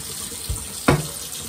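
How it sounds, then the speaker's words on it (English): Tap water runs briefly into a sink to rinse beans for homemade chili, heard as two short splashing bursts, the second louder and longer, close by and with no talk. "And then we are going to rinse our beans."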